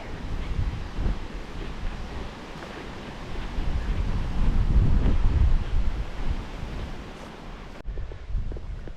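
Strong wind in open Kent countryside buffets the microphone in a continuous low roar, swelling louder in the middle before easing off.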